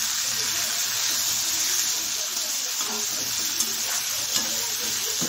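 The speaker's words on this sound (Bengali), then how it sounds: "ভালো করে একটু ভাজা করে নেব।" Potato and red amaranth stems frying with salt and turmeric in a pan, a continuous close sizzle with a few scraping stirs and no speech.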